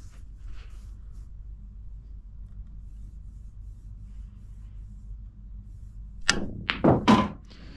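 English pool balls clacking on a table after a cue strike with backspin: a quiet stretch, then a few sharp knocks close together near the end, heard alone.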